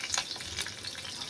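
Chopped onion fries in hot oil with curry leaves in a kadhai, giving a faint, steady, hissing sizzle with small crackles throughout and no talking.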